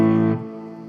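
A distorted electric guitar chord through a Neural DSP John Mayer X amp plugin with gain raised, treble up, mids cut and bass lowered, struck once and left ringing as it decays, loud and close.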